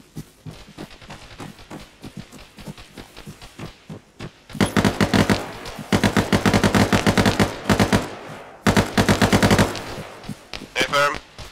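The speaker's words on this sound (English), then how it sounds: "I'm getting heavy fire." Heavy automatic gunfire in the military shooter game Arma 3, long loud rapid bursts with short pauses between them and faint radio talk early on.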